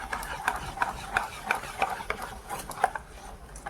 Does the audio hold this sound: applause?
no